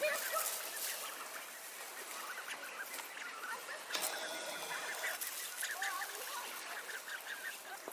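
Ducks and geese quack and honk in a steady outdoor chorus at a lake near Trondheim, Norway, while the ducks feed on blueberries, a mix of near and distant calls with scattered splashing and rustling.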